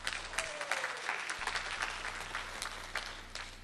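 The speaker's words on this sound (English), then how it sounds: "thank you for that tumultuous applause." Applause from a talent-show audience greeting a stand-up comic, a soft but dense patter of many hands with scattered sharper claps, heard from a distance in a large room.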